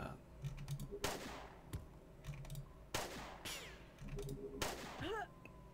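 Handgun fire in Jagged Alliance 2: Urban Chaos, with sharp shots in a loose series of about four, each ringing out above a low game background.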